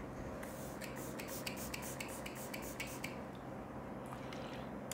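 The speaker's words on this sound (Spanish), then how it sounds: "Es un spray muy refrescante porque sale mucha agua." Short bursts of rose water facial mist sprayed from a pump bottle, several quick hissing puffs in a row, faint and close against a quiet background hum.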